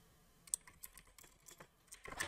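Faint, quick keystrokes on a computer keyboard as a command is typed into a command prompt, with a scattered run of light clicks and a denser burst of key presses at the end.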